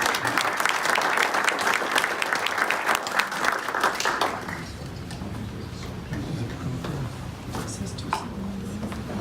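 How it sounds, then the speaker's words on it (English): Applause from an audience at a Paul Harris presentation, steady dense clapping for about four and a half seconds before it thins out into scattered claps and murmuring room noise. "if we could have a round of applause for Lexa."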